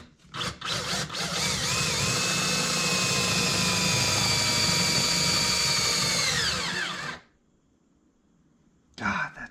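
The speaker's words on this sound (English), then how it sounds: "it's always fun drilling a hole in your boat" A cordless drill bores a hole through a boat hull, running steadily at high speed for several seconds before stopping, with a brief burst of sound afterward.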